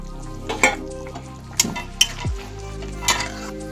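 Katla fish curry with potato and pointed gourd cooks in a pot, a steady low simmer and sizzle under a few sharp stirring scrapes and clinks of utensil against metal, with one low thud.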